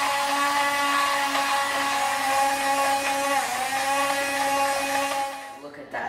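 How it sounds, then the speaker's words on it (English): An electric blender whirring through chunks of tomato and onion for jam: a loud, steady motor whine with strong tonal harmonics, wavering slightly as the load changes, then cutting off near the end. "now we're just gonna blend this up so it gets a little nicer consistency"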